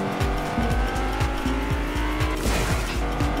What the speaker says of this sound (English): we went from a car to driving a Lambo